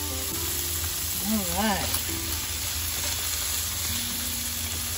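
Bacon sizzling in a frying pan on a stove in a camper van, a constant close frying hiss with light spatter, while someone briefly speaks over it.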